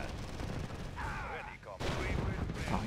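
Gunfire in the real-time strategy game Red Alert 2, a steady stream of small-arms fire running under excited talk throughout.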